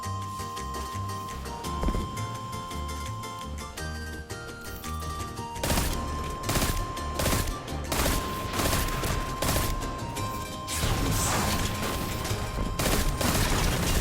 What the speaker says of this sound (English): as you can see, I am dealing ever so slightly less damage with my pulse rifle